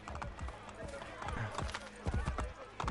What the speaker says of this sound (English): Ezio, get on the horse.